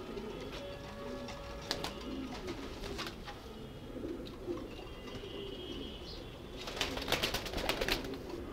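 Racer pigeons in a home breeding loft coo repeatedly at low volume, with soft overlapping calls and occasional chirps and a brief flutter of wings near the end.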